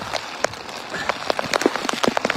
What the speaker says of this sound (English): So as you can see, just heavy rains right now. And winds.